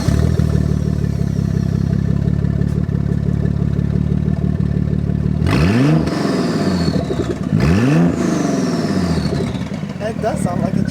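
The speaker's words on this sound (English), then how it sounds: "It does sound like a truck. It sounds just like a truck" A twin-turbo Nissan 300ZX with a full HKS Hi-Power exhaust idles with a deep, truck-like rumble, then gets two sharp blips of the throttle whose revs rise and fall quickly before it settles back to idle.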